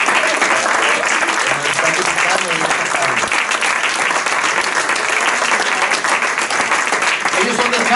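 A church congregation claps steadily to welcome visitors, dense and loud applause filling the room for the whole stretch, with voices talking faintly underneath.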